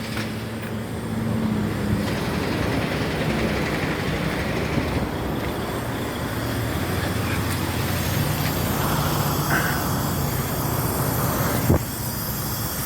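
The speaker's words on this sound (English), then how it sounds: "You guys can hear the airbags kicking in." Air suspension bags on a semi truck inflating, a sustained hiss of air over a running diesel engine's low rumble and hum, steady and close, with a brief clunk near the end.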